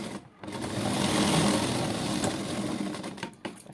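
Sewing machine stitching side tucks on a blouse, a steady, close mechanical whir of rapid stitching that pauses briefly near the start and again toward the end.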